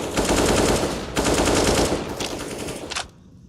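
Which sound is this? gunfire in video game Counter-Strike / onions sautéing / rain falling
gunfire in video game Counter-Strike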